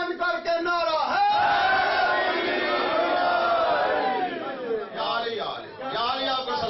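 A congregation at a Muharram majlis in Denmark shouts a religious slogan in unison, arms raised, as a loud, sustained mass of many voices with rising and falling chanted swells throughout.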